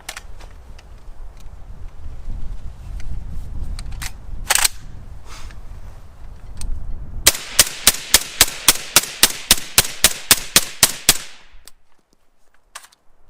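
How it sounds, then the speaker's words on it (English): A suppressed mil-spec rifle with a hot suppressor, fired outdoors: about fifteen sharp, evenly spaced shots in a quick string, preceded by handling noises and a lone earlier shot. "Suppressed mil-spec, 15 rounds."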